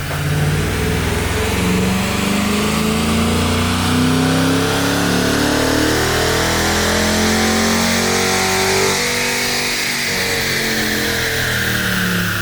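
A 5.7L Hemi V8 revs hard on a chassis dyno during a baseline pull, a loud sustained engine roar climbing steadily in pitch and then easing off, with no talking.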